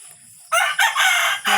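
A rooster crows loudly and close, several drawn-out calls in a row, with faint clucking from hens beneath.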